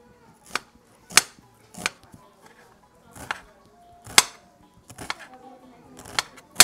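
An onion gets chopped on a board in a home kitchen in Siparia, Trinidad, heard as about eight sharp, irregularly spaced knife strikes with quiet gaps between them and faint talk in the background.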